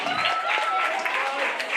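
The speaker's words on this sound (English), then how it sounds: "big round of applause for our guy from Magic" A staff talent show crowd in a theatre applauds, giving sustained, fairly loud clapping with a steady background hum and faint voices mixed in.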